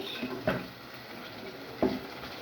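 Taro stolons and shrimp being stirred in a pan, with two distinct scraping knocks of a utensil against the pan over a steady low background.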